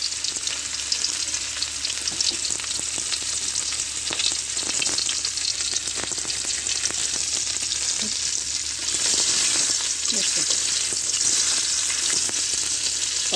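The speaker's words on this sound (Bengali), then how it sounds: "পার্শে মাছটা আগে ভেজে উঠাই নেব।" Parshe fish frying in a pan gives a steady, loud sizzle with occasional spatters and stirring, with no voices.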